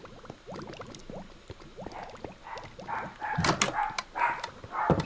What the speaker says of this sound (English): That's my dog, if you hear something barking in the background.